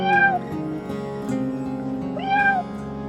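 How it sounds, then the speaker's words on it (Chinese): A cat outdoors near a traditional Korean-style building in a Chinese border town gives two clear, close meows, one at the start and another near the end, over a bed of background music. "哎，我看到小猫了，哇，你是朝鲜族的小猫猫吗？"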